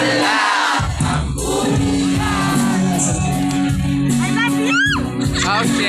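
A crowd shouts and whoops at a town fiesta in Minalabac, Camarines Sur, loud and close, with overlapping yells, cheers and rising calls layered over a dense background din.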